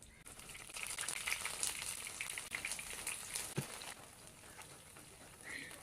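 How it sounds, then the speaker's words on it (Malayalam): Battered paneer 65 pieces frying in hot oil, giving a steady mid-level crackle that holds through the whole stretch with a few sharper pops and a brief low knock partway through. "ചൂടായ എണ്ണയിലിട്ട് ഫ്രൈ ചെയ്തെടുക്കാം."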